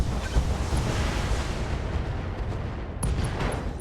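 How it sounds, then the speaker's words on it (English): Ammo explosion in the BattleTech video game: a loud, sustained rumbling roar of blasts, with a fresh crack-like burst near the end. "And there goes an ammo explosion."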